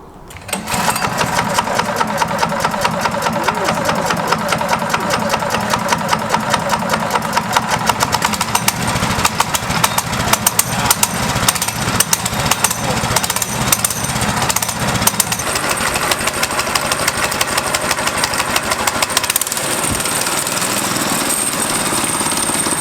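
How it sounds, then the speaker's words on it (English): A homemade hybrid gas-electric trike's small gas engine runs steadily and loud the whole time, a rapid hammering putter with no talk over it. "Now I'm gonna start it back"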